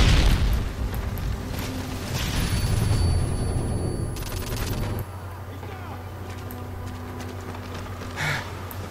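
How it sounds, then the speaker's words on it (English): A flashbang grenade and gunfire in a Call of Duty MW3 2v2 match, a burst of loud cracks and booms up close at first, then a duller, steadier rumble with scattered distant shots. "Tossing a flashbang!"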